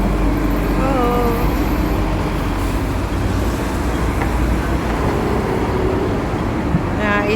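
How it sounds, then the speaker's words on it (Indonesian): Hong Kong double-decker buses rumble through busy night traffic beside the Happy Valley tram line, a steady broadband roar of engines and road noise throughout, with faint voices mixed in. "itu bus di sini tingkat semua ya. Atas bawah."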